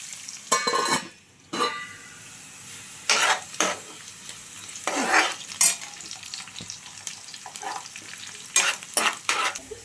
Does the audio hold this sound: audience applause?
no